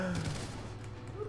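Rapid automatic gunfire from a weapon in the Call of Duty Ghosts video game, a dense continuous burst heard up close and loud throughout, with no pauses.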